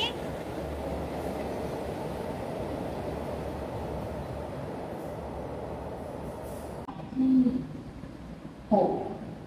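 A passenger train on a Thai Songkran special service rumbles steadily near Don Mueang station, a continuous low roar with two brief louder tonal bursts near the end.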